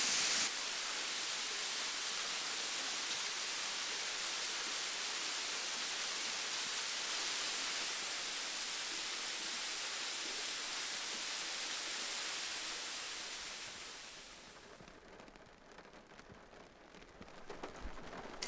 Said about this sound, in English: Wow, so it's really raining now.